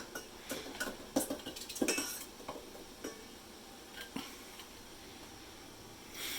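Metal utensil clinks and scrapes against a hot canning pot while a lid is fished out during home canning of chicken soup: a scatter of sharp, close clinks and knocks, busiest early, then sparse taps over a quiet background.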